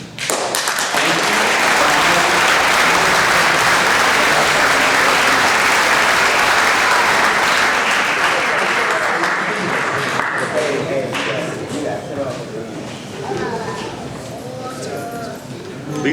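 Audience applause fills a graduation ceremony at Bossier Public High School in the Chino Valley Unified School District. Loud, dense clapping runs steadily for about ten seconds, then thins and fades.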